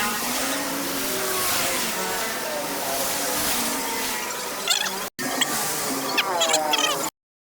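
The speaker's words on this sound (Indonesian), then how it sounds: "ayeuna urang cek sound suarana tah ieu pipana nya" Yamaha Mio Sport motorcycle engine revving through a modified exhaust with 30-to-38 pipe sizing, a steady loud drone with a few sharper rises near the end before cutting out, as voices talk over it.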